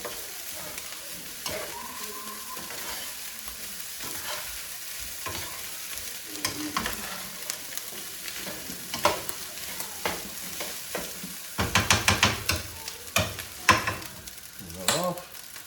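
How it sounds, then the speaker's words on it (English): Steak fried rice gets a last stir in a hot pan: a steady sizzle with repeated scraping strokes of a utensil against the pan, growing louder and more clattery toward the end, with no talking. "Just one final stir."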